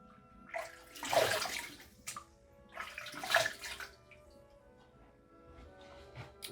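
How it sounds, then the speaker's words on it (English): Water splashed by hand before shaving, two distinct bursts of close splashing and trickling with quieter drips in between. "going to splash some water"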